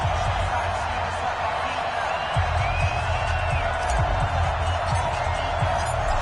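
A stadium crowd roars steadily in an EA Sports football video game before a Redskins–Cowboys match, a constant loud wash of cheering with a commentator talking over it.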